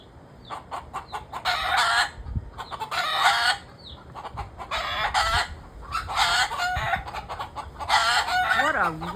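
Several chickens cluck loudly and fairly close in repeated bursts across the clip, with a rooster crowing near the end among them.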